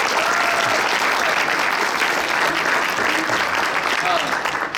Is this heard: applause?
yes